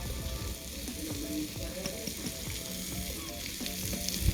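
Mushrooms, onions and crushed garlic sweating in a pan, giving a steady moderate sizzle with occasional soft scrapes and taps as they are moved around, close by and continuous; no talking.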